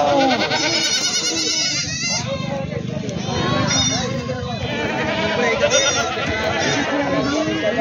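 Goats and sheep bleat repeatedly at a large Maharashtra livestock market, several calls overlapping near and far over constant crowd chatter.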